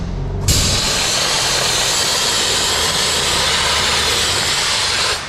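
A dry ice blasting machine cleans plastic on a car, starting abruptly with a loud, harsh, continuous hiss, roaring steadily close by for about five seconds before cutting off.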